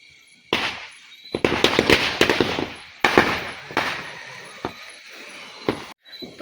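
Firecrackers set off by neighbours during Diwali celebrations at a family home, a string of sharp crackling bursts and pops in rapid clusters, some near and loud, others fading between gaps.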